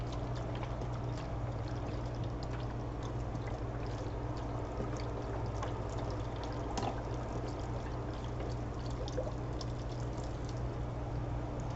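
Chicken stock pouring steadily into a stack-cooker pot, a continuous watery rush with faint trickling, no voices.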